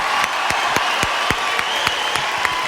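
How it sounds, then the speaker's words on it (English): Audience applause at a music-for-peace concert event, continuous clapping with a steady rhythmic beat of sharp unison claps, moderately loud throughout. "how about another round of applause for Supreme Master Ching Hai?"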